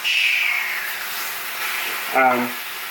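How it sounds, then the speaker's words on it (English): Loud broadband sizzling hiss of turkey bacon frying in a pan, steady throughout, with a brief burst of clatter or voice near the end. "I just need to flip my turkey bacon."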